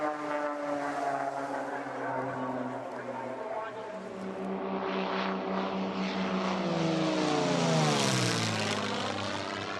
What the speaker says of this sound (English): An airplane truly is one of the awesome things that